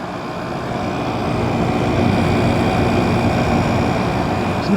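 An Everstar air conditioner runs with a steady, moderately loud mechanical whir and broadband airflow noise, holding constant throughout with a faint tonal hum underneath.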